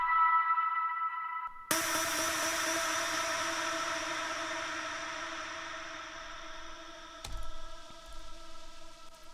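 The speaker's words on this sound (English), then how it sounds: "I'm using some vocal chops and I automated them, put on a lot of reverb, a lot of delays and the OTT afterwards" Automated vocal chops drenched in heavy reverb and delays and squashed with OTT compression swell into a long, sustained wash of tone, with a sharp accent late on, in a melodic electronic remix.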